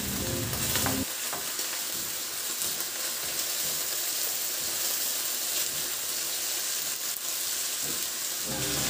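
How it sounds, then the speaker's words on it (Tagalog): Garlic sautéing in a pan beside browned beef ribs, giving a loud, constant close-up sizzle with some crackle and utensil scraping near the start and no talking. "ihalo ko lang ng bahagya at itabi sa gilid ng ating kawali at igisa ko na rin yung bawang"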